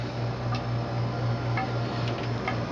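Clock ticking inside the cabin of a 1981 Hunter 33 sailboat, faint regular ticks over a steady low hum and background hiss.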